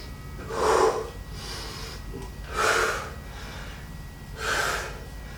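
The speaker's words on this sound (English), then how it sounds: "Nice breathing rhythm, guys." Heavy breathing from people doing squats in a beginner home bootcamp workout: three loud, slow, rhythmic breaths spaced about two seconds apart over a steady background.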